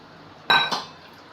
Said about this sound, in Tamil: கரண்டியை வச்சு நல்லா தொலை விட்டுக்கோங்க, நல்லா கிண்டி மிக்ஸ் பண்ணி விட்டுக்கோங்க.